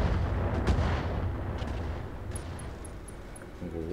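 Heavy mech weapons fire in the BattleTech game Roguetech, a dense, rumbling barrage of booming shots with a thick low roar and a few sharp cracks, ending in faint beeping tones.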